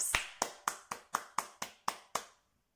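Eight evenly spaced, crisp claps from a group at a children's mixed arts workshop, ringing together in a steady rhythm and ending in silence.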